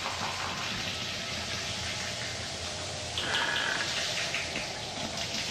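Steady shower water runs in the horror video game Outlast, a dense continuous hiss of spray with no break and a slight brighter splash partway through.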